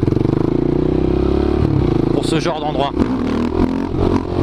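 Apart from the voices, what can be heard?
KTM Duke 690 motorcycle engine riding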